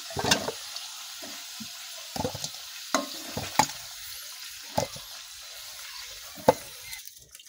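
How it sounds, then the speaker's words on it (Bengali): Bay leaves crackle briefly in hot oil, with a soft sizzle and a few sharp clinks of a spoon against the pan, fairly close and otherwise quiet. "তেলেতে আমরা তেজপাতা 3টা দিয়ে দেব, দিয়ে একটু নাড়িয়ে নেব"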